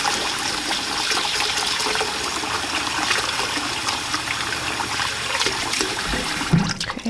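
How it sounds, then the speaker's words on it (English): Cold tap water runs steadily over soaked rice in a bowl, a continuous close splashing rush lasting several seconds before it cuts off abruptly near the end. "Rinse this with cold water."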